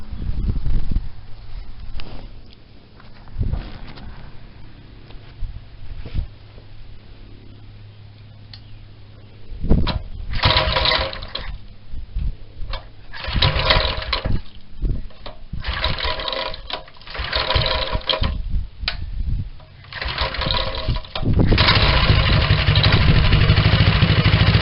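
An old motorcycle engine cranks, sputters to life and runs with a rough, ticking idle that grows steadier and louder toward the end.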